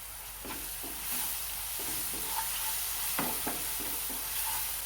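Ginger, garlic and green chili paste fries in a pan for batata vada as salt is added. A constant hissing sizzle carries a few light spoon taps and scrapes, close and steady, with no voices.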